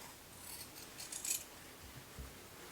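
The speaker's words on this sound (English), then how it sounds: "After this, trim the points of the waist wraps." Scissors snip through the fabric points of a blouse's waist wraps, giving a few faint, close cuts and light metallic clicks against quiet background.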